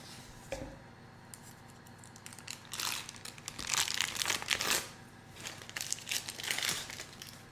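Parchment paper being crumpled around a chocolate sculpture, close crinkling and crackling that builds into several dense bursts of rustle after a quiet start, with no talking.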